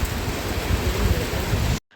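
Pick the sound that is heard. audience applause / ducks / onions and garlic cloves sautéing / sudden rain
sudden rain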